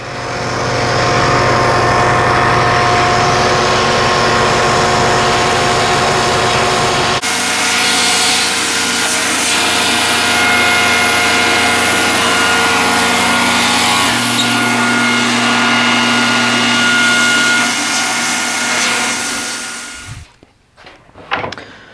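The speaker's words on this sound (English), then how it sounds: "So I'm going to burn it through the drum sander instead." A drum sander runs continuously as wooden end-table pieces feed through it, giving a loud, steady grinding roar that shifts character partway through, then winds down and falls quiet near the end.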